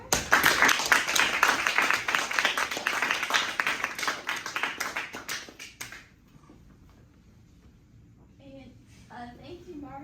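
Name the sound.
clapping for guest speaker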